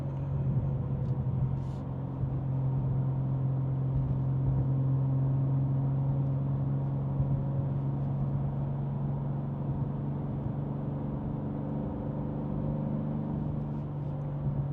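BMW M2 engine drones steadily from inside the cabin while driving, a constant low hum with a faint whine above it, moderate in level and unbroken for the whole stretch, with no talk over it.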